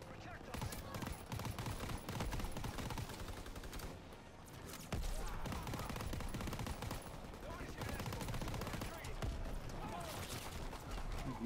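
Sustained light machine gun fire in a WWII shooter, dense rapid bursts that run almost unbroken with a short lull in the middle, loud and close, while voices talk over the battle.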